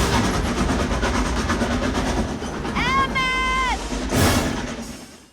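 Steam train from Back to the Future Part III running at speed, a dense rolling rumble and clatter of wheels with a wavering whistle-like tone rising above it, under continuous loud film sound.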